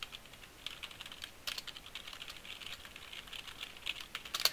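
Quiet, irregular clicks of fingers typing on a computer keyboard while writing code, soft and close with small bursts and pauses throughout.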